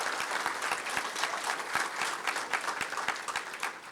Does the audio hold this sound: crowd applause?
yes